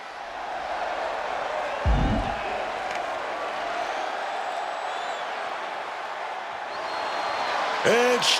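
A wrestling arena crowd in WWE 2K26 universe mode keeps up a continuous roar of cheering and murmur, with a brief louder swell near the end and occasional whistles over it.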